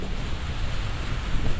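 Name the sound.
wind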